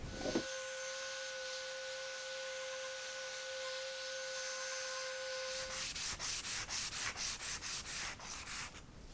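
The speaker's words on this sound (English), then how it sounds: "let's get to sanding" Steady, close rubbing of sandpaper on a rusty Disston saw blade, first as a continuous scratching over a faint tone, then in quick rhythmic back-and-forth strokes.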